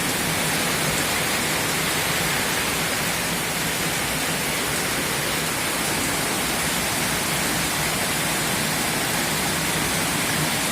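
Heavy rain pours steadily in a dense, unbroken hiss, loud and close, with no voices, in Banda Aceh, Indonesia.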